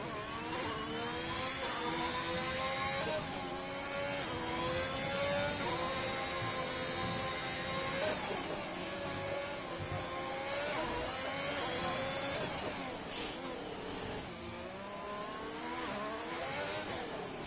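An Alfa Romeo Formula 1 car on a hot lap around Monaco in a racing video game, its high engine whine rising and falling steadily through gear changes, continuous and close for the whole stretch.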